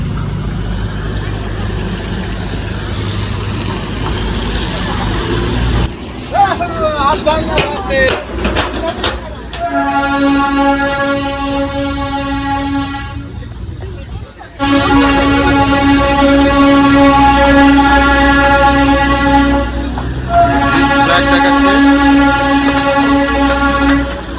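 A Darjeeling toy train's diesel engine sounds its horn in two long, loud, sustained blasts, near and steady, after a stretch of rumbling and clattering train noise; people talk faintly in the background.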